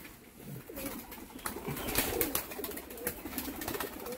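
Pigeons coo while being fed, a flock close by producing overlapping soft, repeated calls mixed with wing flaps and light scrabbling, steady over several seconds.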